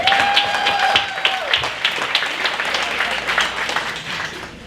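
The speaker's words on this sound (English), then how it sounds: "Another round of applause for Heather Steele." Audience applause at a community leaders' awards evening, steady close clapping throughout with a brief tonal whistle-like sound at the start.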